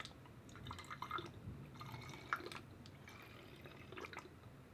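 Rose water poured from a bottle into a small container for a homemade foundation mix, a faint trickling and dripping with soft splashes, close and quiet with no talk.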